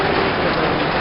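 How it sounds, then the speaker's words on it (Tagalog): Heavy rain pouring down in a dense, continuous hiss that sounds close and fills the whole moment, with no voices. "Malakas pa ng palakas yung ulan."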